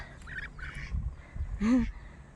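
Domestic ducks, one white and one black, give a few short nasal quacks close by, with a louder final quack, against a quiet outdoor background.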